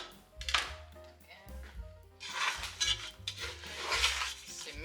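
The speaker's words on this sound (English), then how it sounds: "Mix everything together." Ingredients for a beef and tomato stew being stirred together in a pot, with repeated scraping and clinking of a utensil against the cookware, some sharp clanks, and low rumbling tones underneath.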